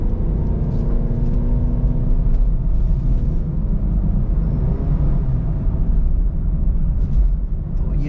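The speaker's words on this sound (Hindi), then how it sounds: "तो ये चंद ही सेकंड्स में गाड़ी जो है अच्छी खासी रफ्तार पकड़कर 80-90 के करीब आ गई है" A Honda City in normal driving mode accelerates hard on an open road, heard from inside the cabin as a continuous, loud low rumble of engine and road noise that holds steady throughout.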